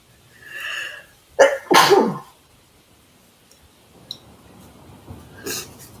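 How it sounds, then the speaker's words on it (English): A single loud, forceful sneeze from a man during a casual morning chat, preceded by a short intake of breath and followed by quieter sniffs and breathing. "I got to sneeze"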